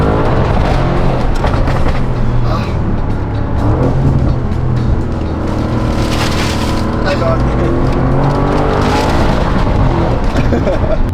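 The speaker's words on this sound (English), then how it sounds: "This car sounds so freaking good" An Audi RS6's engine drones and revs as the car drives, its pitch rising and falling through the gears, loud and close.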